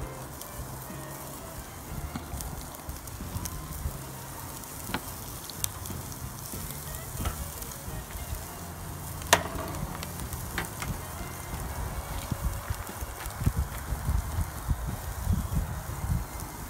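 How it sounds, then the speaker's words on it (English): Skinless, boneless chicken thighs sizzle steadily on a grill, a continuous close hiss and crackle with scattered sharper pops and no talking. "I'm just going to lay these on here. These are skinless, boneless thighs."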